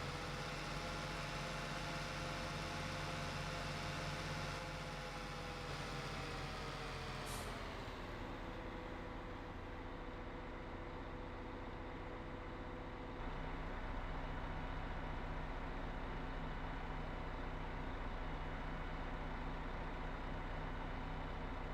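Truck in Farming Simulator 15, in a potato harvest setting: a steady loud engine drone with a hiss around the midpoint like an air brake release, then the engine settling to a lower idle; no talk.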